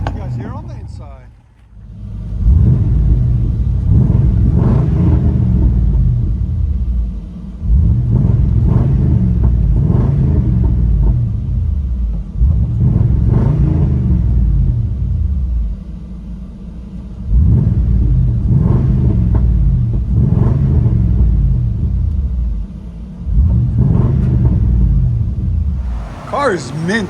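A Chevy Tahoe 5.7L V8 with true dual straight pipes gives a deep, throaty exhaust rumble swelling in repeated revs, each roughly four to five seconds apart, loud and close throughout.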